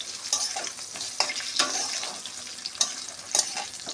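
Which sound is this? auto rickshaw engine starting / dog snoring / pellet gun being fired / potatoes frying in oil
potatoes frying in oil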